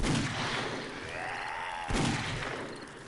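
Gunfire in the video game 7 Days to Die, two loud blasts about two seconds apart with a brief rushing sweep between them.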